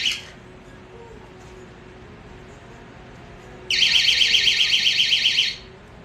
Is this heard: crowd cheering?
no